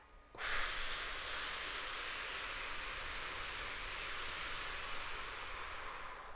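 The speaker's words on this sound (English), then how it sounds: "Breathe in, and breathe out." A long, steady exhale during a singing breath exercise, a close, airy hiss that starts abruptly and holds evenly for several seconds before fading slightly.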